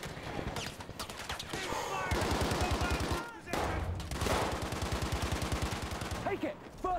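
Rapid bursts of Tommy gun fire in the shooter game Battlefield 2042, loud and continuous with brief pauses between long strings of shots over roughly seven seconds, with game effects mixed in.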